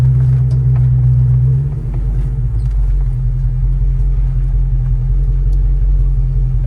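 A 1968 Chevrolet Chevelle Malibu engine drones steadily while driving, a loud low rumble that shifts pitch briefly near the start before settling into a constant cruising tone, with no talking.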